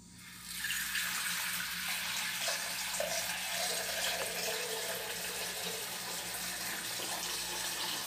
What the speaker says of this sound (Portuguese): Vou pegar aqui na torneira aqui